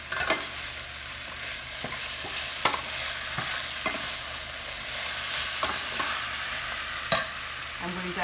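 Mashed red pepper is stirred in a hot pan while cooking pilau rice, a soft continuous sizzle broken by irregular scraping taps of the spoon against the pan, close and moderately quiet.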